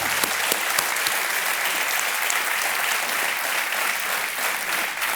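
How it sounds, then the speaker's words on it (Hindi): Studio audience of a quiz show applauds a contestant pair, loud continuous dense clapping filling the whole stretch without a break. "बहुत बहुत तालियों के साथ आपका अभिनंदन करते हैं हम।"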